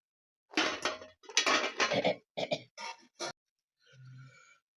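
Pots and metal vessels clatter in a home kitchen during dal vada cooking: several quick, loud bursts of clanking in a row, then a pause and a softer, lower rattle near the end.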